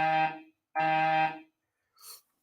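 An alarm sounds in a school as two long, loud buzzing blasts, then a short, fainter burst, with gaps of silence between them and no talk.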